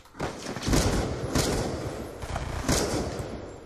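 Dual-wielded pistol fire in the Call of Duty Black Ops 2 video game, a dense, rapid rattle of overlapping shots that lasts a few seconds, loud and close.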